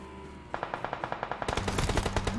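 Video game machine-gun fire shoots out a car's tyres, a steady rhythmic burst of about a dozen sharp shots, then a louder, denser volley of overlapping rounds, close and alone without talk.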